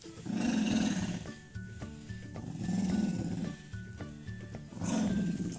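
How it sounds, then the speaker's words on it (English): A dog growls in low, rumbling bursts, three drawn-out swells with short pauses between them, close to the microphone while a shirt is put on it. "Like always, growling."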